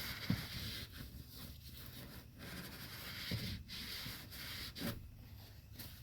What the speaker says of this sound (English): Just make sure you get all the burrs out as best you can.